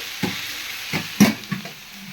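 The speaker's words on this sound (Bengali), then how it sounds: "আর এই চুলায় হচ্ছে পেঁপে আলু ভাজি এটা আরেকটু ভাজা ভাজা হবে" Papaya and potato fry on a home stove, with soft background sizzling broken by a few short, distinct stirring scrapes and clatters from a spatula.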